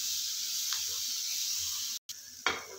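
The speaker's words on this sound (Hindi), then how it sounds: "इसे मिक्स करके हम 1/2 मिनट तक और भूनेंगे" Sweet corn chaat roasting in a pan: a steady bright sizzle, close and fairly loud, with a brief scraping stir and a short cut-out near the end.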